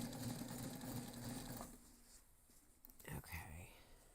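A sewing machine runs a fast basting stitch through backpack canvas, a close, quiet mechanical whir that stops partway; afterward come faint handling rustles and a soft clack.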